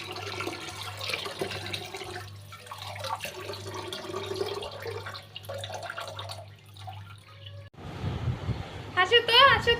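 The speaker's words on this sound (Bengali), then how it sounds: "তো চালগুলো আমি সুন্দর করে ধুয়ে কষলিয়ে আসে নিব।" Rice is washed by hand in water with a quick, close sloshing and dripping while someone talks over it, ending in a brief louder splash and pour.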